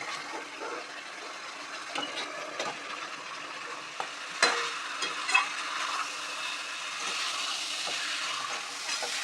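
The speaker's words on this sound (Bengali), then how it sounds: "গোটাটা ভালো করে কষা হয়ে গেছে" Mashed banana flower fries in spices in a pan with a steady close sizzle, while a spoon stirs and scrapes it in scattered knocks and clatters.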